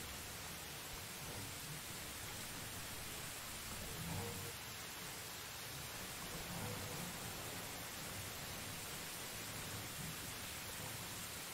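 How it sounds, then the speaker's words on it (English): Heavy rain in the medieval survival game Medieval Dynasty: a loud, unbroken broadband hiss of downpour runs throughout, with a couple of faint low rumbles underneath. "This rain though is incredibly loud."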